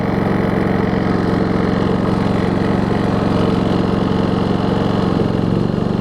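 An RV air conditioner fan starts up while a Pulsar PG4000iSR inverter generator runs, giving a steady, loud engine-and-fan drone that holds evenly throughout, with no talking.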